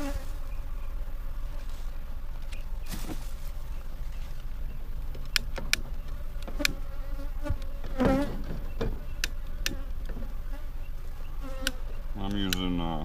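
An aggressive Africanized bee colony fills the air with a dense, continuous buzzing, with individual bees zipping close past now and then, and faint rustling and handling noises in the background.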